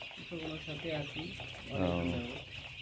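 Chickens on a poultry farm give a few short clucks and a drawn-out call close by, over a steady background hum, with no one speaking.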